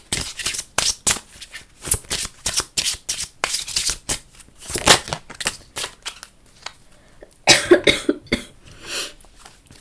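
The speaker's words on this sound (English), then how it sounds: "I've had this cough since last night" Dense bursts of short, sharp noises crowd the first half, then a pause and a cluster of harsher bursts, like repeated coughing close by with no talk.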